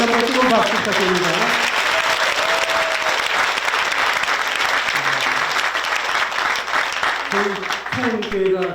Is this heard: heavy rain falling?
no